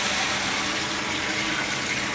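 Cold water pours steadily into a bucket for making chip batter, a dense, continuous close gushing with no talk over it.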